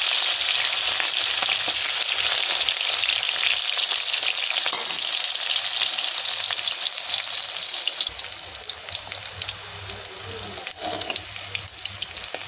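Salt-and-turmeric-coated bitter gourd pieces frying in hot mustard oil, a loud, dense, continuous sizzle close up that shifts and crackles more unevenly near the end, with no talking.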